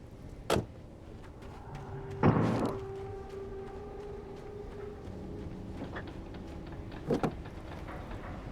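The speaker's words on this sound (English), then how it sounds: "it still makes a door closing sound and a door opening sound" A truck door in the video game Alan Wake opens and then closes: a sharp click, a louder thud with a short rattle, and a double knock near the end, with no talk over it.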